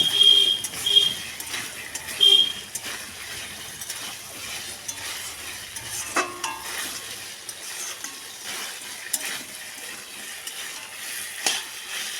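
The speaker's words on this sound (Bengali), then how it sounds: "সব কিছুকে মিশিয়ে একটু সময় ধরে কষিয়ে নেব" Mixed ingredients for a vegetarian mock-fish curry are stirred and sautéed in a pan. A soft, steady sizzle runs under occasional spoon clinks and scrapes, fairly quiet throughout with no talk.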